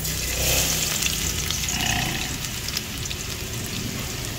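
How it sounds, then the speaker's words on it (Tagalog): Ginger and garlic fry in a pan with a steady, close crackling sizzle and a soft stirring scrape midway; no talking, just continuous frying at an even level. "Pa-brownin lang natin yung bawang guys."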